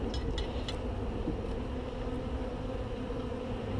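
Honeybees buzz steadily during a hive inspection, a dense, continuous hum filling the air without a break.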